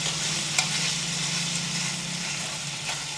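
Chicken with ginger-garlic paste and spices stirred and frying in a pan for gongura chicken fry, a steady close sizzle with a faint scrape of stirring.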